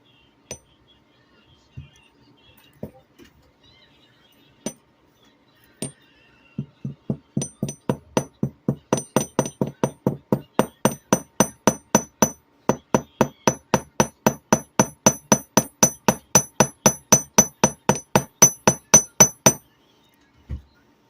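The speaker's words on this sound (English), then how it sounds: "So I'm going to hammer it right here" Hammer tapping wire at a bend while forming a wire-wrapped necklace from a single base wire: a few scattered taps, then a long steady run of rapid, evenly spaced metallic strikes, close and crisp.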